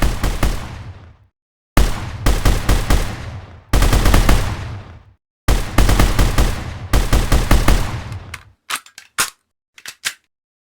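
Loud bursts of automatic gunfire from a Unity first-person shooter game with metal hit effects, several rapid strings separated by brief silences, ending in scattered single shots.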